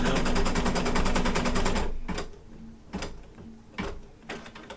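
An embroidery machine stitches in a rapid, steady chatter for a couple of seconds, then slows to a few separate mechanical thumps with pauses between, sounding faulty.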